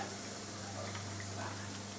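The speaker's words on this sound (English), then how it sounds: "so now I'm frying up the rings that we cut up" Squid rings deep frying for tempura: steady crackling sizzle of oil, a continuous hiss with a low hum underneath, constant in level throughout.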